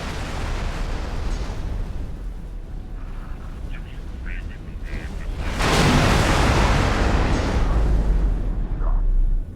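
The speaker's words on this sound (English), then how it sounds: "They've definitely shortened those explosions" Loud, sustained explosion rumbles from space combat in X4: Foundations, with a heavy blast swelling midway and roaring on for several seconds over dense background game noise.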